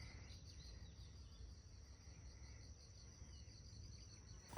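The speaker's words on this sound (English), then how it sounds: "Crickets singing, birds singing." Crickets chirp in a steady, continuous high trill on a still, breezeless evening outdoors, faint and even throughout, with no voices.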